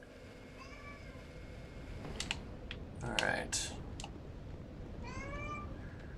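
House cats meowing at feeding time, with several drawn-out, rising and falling meows near the start and end, mixed with quick computer keyboard typing and clicks, plus one brief spoken word.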